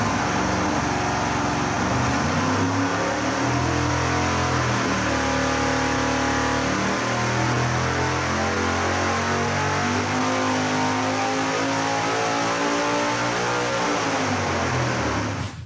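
A V8 performance engine on a dyno roars through a nitrous pull, sweeping steadily upward from 5,000 to about 7,200 RPM in one loud, continuous rising howl before it cuts off at the end.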